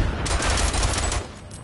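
An MG08 machine gun fired from the prone position in Isonzo, on the Italian front, lets off one rapid, loud burst of closely packed shots lasting about a second before tailing off.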